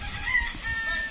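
Chickens cluck and a rooster crows on a rural farm, a drawn-out crow over outdoor background noise, moderately close.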